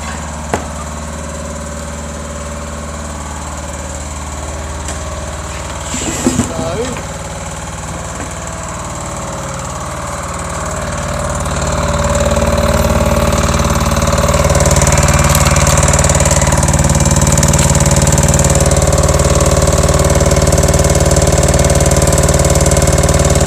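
A Kipor KDE6700TA diesel generator runs at a steady idle, then its engine note rises and grows louder around midway, holding a strong, continuous low drone with a brief rattling clatter earlier on.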